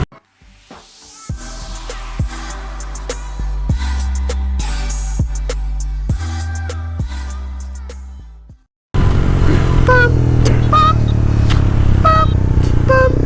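A beginner motorcycle's engine idles and then revs in rising and falling bursts, loud and close, before a short pause and a harsher, fuller roar as it pulls away.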